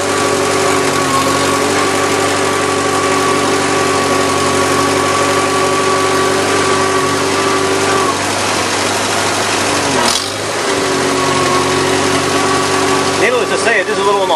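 A 1950 Farmall C tractor engine runs steadily while being driven, a loud continuous drone with a brief dip near the middle; voices talk over it.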